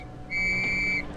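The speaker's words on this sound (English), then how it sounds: "The warning may also be given by short blasts on police whistles." A single sustained blast on a police whistle sounding an air raid warning, shrill and steady for about two-thirds of a second over a low background rumble.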